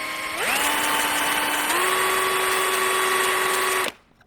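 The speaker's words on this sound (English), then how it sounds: "We're just going to drill a little bit so we have a mark." A small power drill whines up to speed drilling into a brass .223 cartridge case, holds a steady high hum with a slight pitch shift, then stops abruptly.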